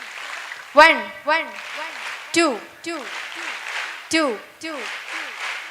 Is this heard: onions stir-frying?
no